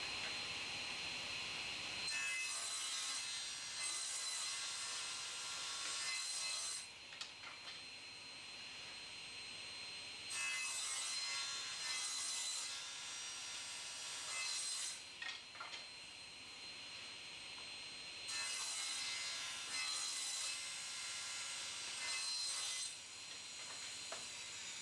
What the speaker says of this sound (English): Step one is to cut the timber into 12mm square sections.